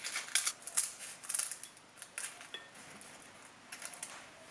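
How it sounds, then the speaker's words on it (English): Sharp, crisp scissor snips cutting kombu and shiitake, several quick cuts in irregular bursts, close up, with faint clinks in a quiet room. "I'm gonna use scissors to cut them into smaller bits"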